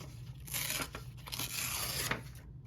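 Paper torn by hand for a junk journal envelope, with a long rough ripping sound in two or three drawn-out pulls, close and steady, and no voices.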